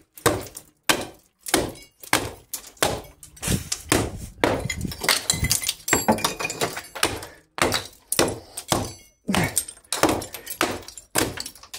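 Sharp, hard knocks repeat in a steady series, like a brick being struck and cracking apart, close and loud with short pauses between blows.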